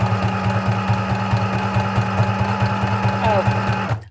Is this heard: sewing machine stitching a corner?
yes